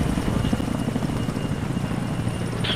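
Loud, close helicopter rotor chop and turbine whine during an airsoft military-style operation, steady and unbroken with no talking.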